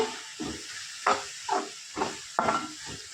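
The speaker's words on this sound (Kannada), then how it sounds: "ಸ್ವಲ್ಪ ಚಿಲ್ಲಿ ಪೌಡ್ರು ಚೆನ್ನಾಗಿ ಫ್ರೈ ಮಾಡ್ಕೊಳ್ಳೋಣ ಇದನ್ನು ಫಸ್ಟು" Ivy gourd stir-fry cooks with chilli powder in a pan, a soft sizzle broken by five or six rhythmic stirring scrapes, close and fairly quiet, with no voices.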